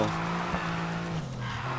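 Aston Martin DB11 Volante in the racing game NFS Heat firing a nitro boost, a steady loud engine drone with tyre noise running continuously through a short burst, no talking.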